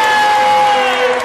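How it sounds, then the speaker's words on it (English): Basketball crowd at a boys JV high school game in a gym, cheering loudly after a dunk, a steady dense roar that swells slightly and holds throughout. "Crowd's into it."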